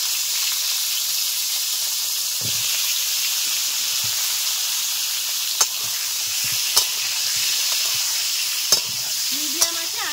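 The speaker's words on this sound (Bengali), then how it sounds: "পটলগুলো হালকা করে ভেজে নেব।" Pointed gourd pieces fry over medium heat in hot mustard oil in a kadai for doi potol, giving a steady soft sizzle with occasional sharp clinks of a spatula stirring against the pan.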